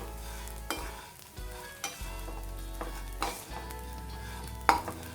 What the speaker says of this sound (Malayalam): തീ കുറച്ച് വെച്ചിട്ട് വേണം വറുത്തെടുക്കാൻ,